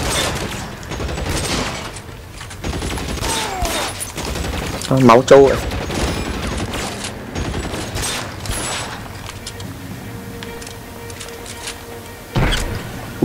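Gunfire in the video game L.A. Noire, with several sharp shots and bursts scattered through a tense scene, a louder volley partway in and another near the end, while a player talks over the action.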